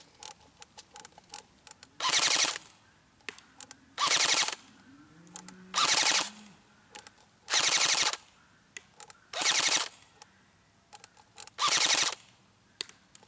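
An Elite Force M4 CQB airsoft gun fires full auto outdoors in six short, sharp bursts of rapid clattering shots, evenly spaced, with faint clicks between them.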